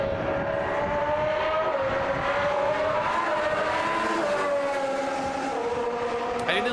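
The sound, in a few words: Formula 1 car engines on track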